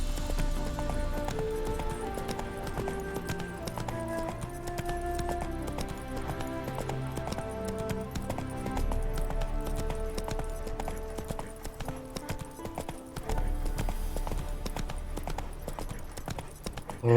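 Roach the horse's hooves clip-clop at a gallop in The Witcher 3, a steady, close rhythm that runs the whole way under a continuous bed of game music.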